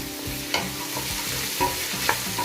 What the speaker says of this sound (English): Now we're going to fry this for 6 to 7 minutes until it becomes translucent